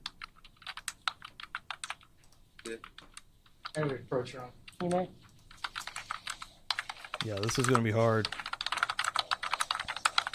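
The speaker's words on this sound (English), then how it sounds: "Damn typing." Quick bursts of computer keyboard typing during a courtroom testimony session, sharp clustered clicks running throughout while people talk over them in several short passages.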